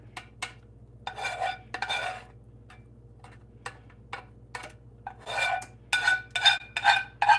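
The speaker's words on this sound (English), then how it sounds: "And then I'm just going to scrape this pot." Barbecue sauce is scraped out of a pot with a utensil, giving close, clicking scrapes in irregular bursts that grow busier toward the end, with no one talking.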